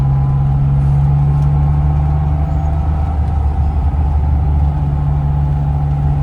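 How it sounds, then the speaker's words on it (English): A 1985 Bitter SC with an inline-six engine runs at a steady, even idle, a loud and close low hum with a constant tone and no speech over it. "Engine sounds fantastic. I mean, it's an inline 6"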